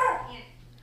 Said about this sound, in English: The dogs are barking again, huh?